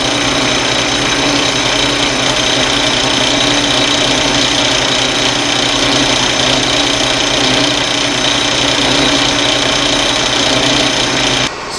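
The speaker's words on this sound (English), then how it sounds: "I'll put just the slightest chamfer on here" A small lathe cuts a slight chamfer on a brass-sized part for a mini propane burner, giving a loud, steady, close whirring drone that runs unbroken and cuts off just before the end.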